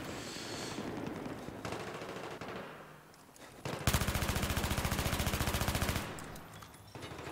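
A loud, close burst of rapid automatic gunfire from an MTAR-21 in Battlefield 3 runs for about two seconds, with rumbling game sounds and scattered shots before and after.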